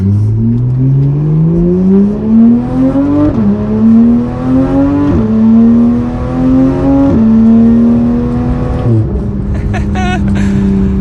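A 991-generation Porsche 911 GT3 engine revs up in rising pulls, short-shifted, dipping briefly at each gear change before climbing again, loud and close as if heard from inside the car.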